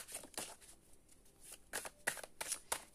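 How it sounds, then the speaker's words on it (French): Tarot cards shuffled by hand up close, giving a series of quick riffling bursts separated by short pauses, fairly quiet overall. "Je vais faire vraiment un petit tirage encore ce matin."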